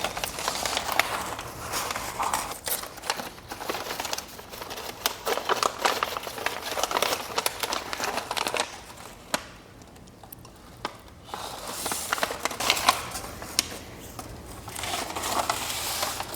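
A packed Ficus Bambino houseplant being unwrapped, with continuous crinkling, tearing and rustling of wrapping close by, busy and uneven, easing briefly midway before picking up again.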